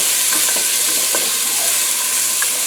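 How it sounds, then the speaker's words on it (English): Onions sizzle and fry in a pot as the base for a vegetable coconut soup, a steady loud hiss with a few faint stirring clicks, close up and with no talking. "And then I'll put the onions in so we can get them loosened up."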